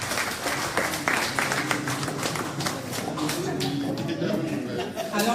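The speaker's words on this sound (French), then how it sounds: "tous vos applaudissements s'il vous plaît" An audience applauds at a diploma ceremony as a man named Toussaint Bondonga is called up; dense, steady clapping runs throughout, mixed with voices and background sound.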